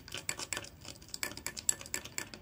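Multani mitti soap mixture being stirred in a bowl, with a spoon scraping and clinking against the sides in quick irregular strokes, close and fairly quiet, no talk.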